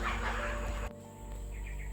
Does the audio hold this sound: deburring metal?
no